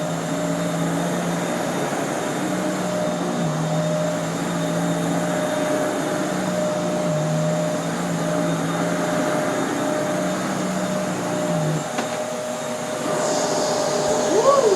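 A refurbished single-speed Rainbow E2 vacuum cleaner runs steadily, a loud constant whooshing airflow with a whining motor tone that shifts pitch slightly, a voice briefly heard over it near the end.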